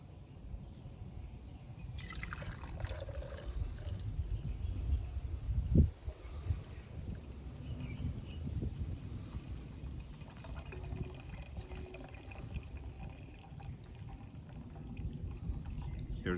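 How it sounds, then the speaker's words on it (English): Cowboy coffee poured slowly from a pan, with the grounds left in the bottom: a faint, steady trickle of liquid over a quiet room and a single brief clink partway through, with no talking. "just a slow pour. We'll keep those grounds in the bottom of the pan."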